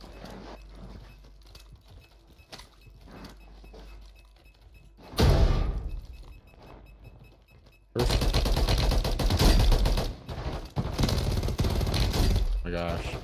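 Gunfire in the Warzone video game: scattered shots and footsteps at first, then a loud close burst, and from midway a heavy, sustained stream of rapid automatic fire under players' voices.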